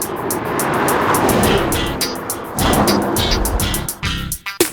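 A 2011 Porsche Panamera S Hybrid, its supercharged V6 paired with a starter-alternator, drives by with a loud, steady engine roar that surges near the middle and ends in a few sharp bursts.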